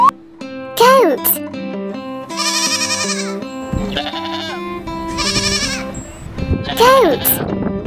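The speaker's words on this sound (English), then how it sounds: "Goat." A toy farm animal plays a recorded goat bleating over background music, with repeated wavering bleats rising and falling.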